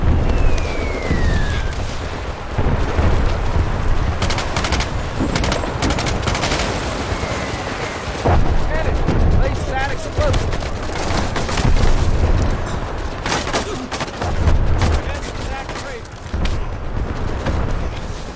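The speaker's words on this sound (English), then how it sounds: "Lieutenant, get an explosive on that. Yes, sir! Let's blow up this hedgehog." Battle din from a World War II VR shooter as an explosive charge blows up a hedgehog obstacle: loud, sustained gunfire and booming blasts with sharp cracks throughout, dense and close for the whole stretch.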